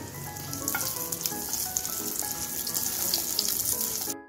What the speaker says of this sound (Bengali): জিরাটা আমি একটু 30 সেকেন্ডের মতো ভেজে নিচ্ছি।